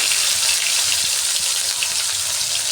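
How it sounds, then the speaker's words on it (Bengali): Dried fish sizzles loudly and steadily in very hot oil, a dense, continuous crackle close by with no voices. "তেলটা যখন খুব ভালোভাবে গরম হয়ে যাবে তখন দিয়ে দিচ্ছি শুকনো মাছ।"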